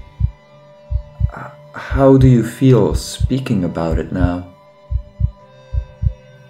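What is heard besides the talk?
heartbeat sound effect in a narrated story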